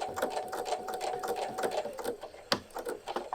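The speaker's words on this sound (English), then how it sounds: "You could also use a decorative stitch on your sewing machine, a zigzag stitch." A sewing machine runs close by, stitching fabric gift tags, its rapid rhythmic needle chatter steady with a brief clunk midway and no talking.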